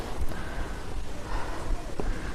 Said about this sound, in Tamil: உண்மையாகவே செமையாக மூச்சு வாங்குது